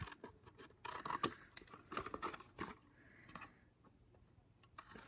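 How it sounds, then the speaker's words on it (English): Scissors snip through vellum paper while trimming a handmade Christmas gift tag, giving a few quiet, close crisp cuts around the one-second mark amid soft paper handling, with no talk. "we can then trim these bits off"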